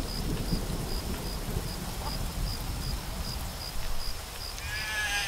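Steady rainfall with low rumbling thunder in the video game Craft The World, accompanied by a faint repeating electronic beep.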